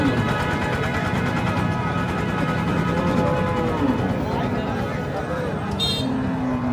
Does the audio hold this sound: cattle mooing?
yes